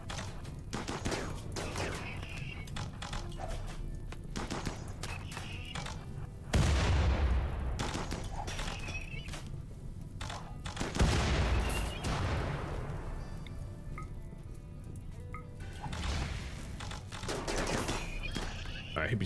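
Colonists firing guns in RimWorld, repeated bursts of gunfire and booming shots over about twenty seconds, some heavier impacts midway, with a voice talking over the battle.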